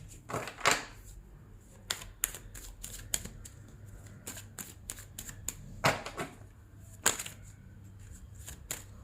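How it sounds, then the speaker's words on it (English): Tarot cards being flipped and laid down during a reading, giving a string of sharp, close papery snaps and slaps at irregular intervals over a quiet background with low hum. "a lot of cards flipped"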